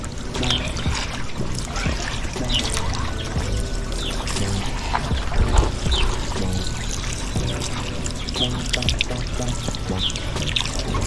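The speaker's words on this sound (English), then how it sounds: "we're going to rinse this off real quick" Water pouring over a gutted red drum fish being rinsed on a cleaning board, a loud, continuous splashing stream with some trickling throughout.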